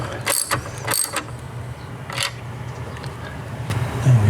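Ratchet clicking while a 12V battery bracket is tightened on a Tesla Model 3, with a few quick sharp bursts of clicks early on and then a steady low hum underneath.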